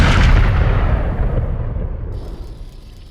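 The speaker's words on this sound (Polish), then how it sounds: "Wspaniale zostało to podkreślone dźwiękiem strzału." A single heavy gunshot from the film Terminator: Dark Fate booms loud and close at the start, then its low rumble slowly decays over about three seconds.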